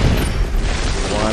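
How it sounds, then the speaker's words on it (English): A frag grenade explodes in the video game Ghost Recon Future Soldier, giving a loud, dense boom that fills the moment and runs straight into heavy ongoing gunfire and rumble. "Oh, that's a frag grenade."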